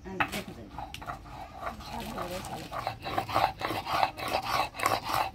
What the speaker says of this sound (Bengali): এবারে শুকনো লঙ্কা বাটি নিব